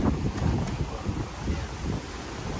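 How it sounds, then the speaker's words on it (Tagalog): Strong sea waves surge around a small boat on open water. A loud, continuous rushing roar swells and ebbs, with heavy wind buffeting the microphone throughout. "Lakas ng alon eh."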